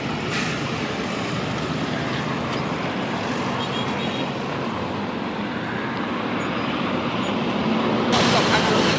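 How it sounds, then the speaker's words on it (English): Heavy roadway traffic rumbles along the Tema motorway in Ghana, a dense continuous roar of passing vehicles that swells slightly near the end. "So the traffic on the motorway"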